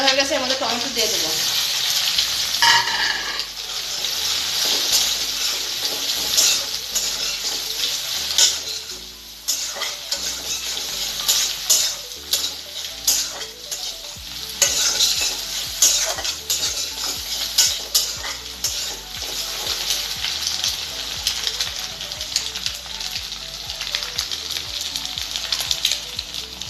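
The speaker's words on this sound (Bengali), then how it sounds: "ডিম ভাজা হয়ে গেছে, আমাদের টমেটো দিয়ে দেবো।" Tomato added to a pan of frying egg, onion and chili for vegetable noodles, giving a steady, close sizzle with stirring scrapes and a brief dip partway through.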